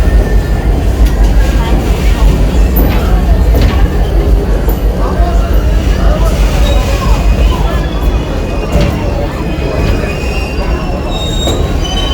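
A train rolls through the Stone Mountain Park station, its wheels squealing on the rails in a loud, steady rumble close by, with a voice talking over it.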